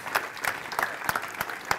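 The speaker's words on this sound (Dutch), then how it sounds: "Een applaus graag" A studio audience claps loudly and steadily, a dense wash of hands close and continuous with no voices over it.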